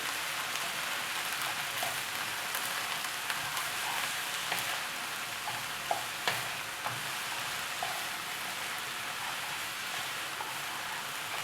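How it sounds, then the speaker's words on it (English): Onion sweats in a pan with a little oil, giving a steady, even sizzle with faint crackles and a few small pops. It runs alone and unchanging the whole time. "I'll cook the onion really good. But I won't brown it, just sweat it."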